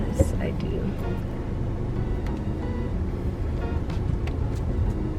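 A car drives along with a low engine rumble heard from inside the cabin, steady throughout, while people talk over it.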